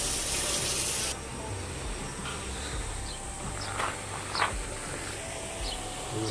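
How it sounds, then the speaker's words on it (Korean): Water runs steadily from an outdoor tap at a campsite, a soft continuous splash that eases slightly after the first second, with faint birds and insects in the background. "아까 그 중간에가 물 제일 잘 나왔다."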